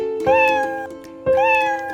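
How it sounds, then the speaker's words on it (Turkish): A cat meows twice in a children's farm song, two clear, loud, evenly spaced meows standing alone without singing over them. "Ali Baba'nın bir çiftliği var Çiftliğinde kedileri var"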